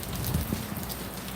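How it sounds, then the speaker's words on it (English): Evening rain falls steadily as an even, broadband hiss of drops on surfaces, with no talking and no clear distinct impacts. "It started raining here about 6:30."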